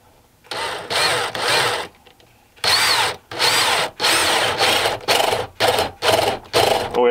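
Power drill bursts hollowing out the head of a wooden nutcracker being built as a scarecrow-styled figure, several loud whirring runs of about a second each, stopping and restarting with short pauses, close and alone.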